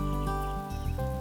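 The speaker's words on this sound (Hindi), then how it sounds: "अरे, ये बारिश को भी अभी आना था।" Rain falling steadily on a surface, a dense continuous patter heard close and alone throughout, with no voices.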